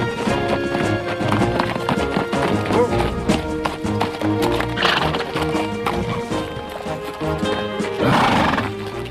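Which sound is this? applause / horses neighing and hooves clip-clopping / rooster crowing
horses neighing and hooves clip-clopping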